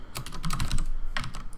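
Rapid keystrokes clatter on a computer keyboard while code is edited in a text editor, a close, busy patter of clicks with a short pause before a final burst.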